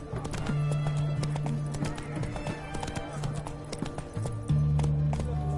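Roach the horse gallops in The Witcher 3, quick rhythmic hoof clops with a snorting whinny and background game sounds, while voices talk intermittently.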